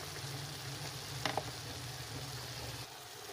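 Chicken for sinigang sautéing in a pan, a steady close sizzle and crackle with a couple of quick stirring clinks midway.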